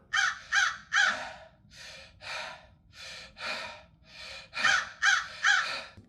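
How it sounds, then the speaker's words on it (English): A crow caws repeatedly in quick bursts of two and three, loud and near, with raspy breath-like calls between. "This is the crow sound, the bird sounds that I have."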